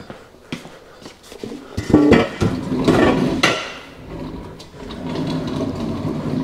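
Metal sockets and wrenches handled while gathering tools to take apart a Power Wagon: a series of sharp clanks and rattles, loudest in the middle, with scattered metallic knocks and shuffling before and after.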